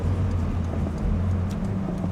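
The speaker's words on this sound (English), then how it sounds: "Get some rev matches" A Mazda Miata NC engine drones steadily at a low, rumbling pitch from inside the car, a continuous revving hum with no voices.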